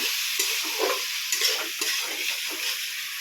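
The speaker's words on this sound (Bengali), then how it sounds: "ভালো করে সবটাকে নেড়ে চেড়ে নেব।" A spoon stirs fish curry with ridge gourd in a pan, scraping in repeated soft strokes over a steady close sizzle.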